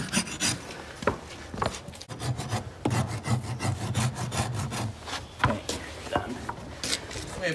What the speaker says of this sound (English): do a heavy score with the corner of your rasp at mostly the back third of the foot